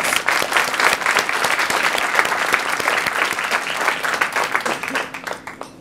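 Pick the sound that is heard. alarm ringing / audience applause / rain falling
audience applause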